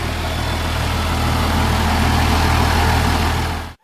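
A Cummins diesel engine in a rat rod idles loud and close, a steady low rumble with a constant throb that runs evenly before cutting off abruptly at the end.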